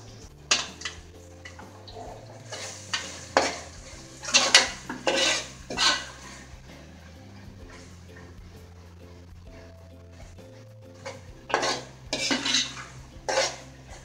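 Ground paste stirred into browned onions in a pan for a village-style fish gravy, with repeated clinks and scrapes of a spoon against the pan in uneven bursts, loud at moments and otherwise quiet, over a faint low hum.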